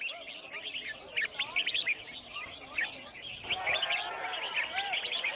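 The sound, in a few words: exotic birds singing at a bird singing competition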